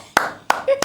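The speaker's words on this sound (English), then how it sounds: "Minister Umahi, let me clap for you." Three sharp hand claps spaced unevenly in under a second, close and crisp, with a brief voiced sound between the last two.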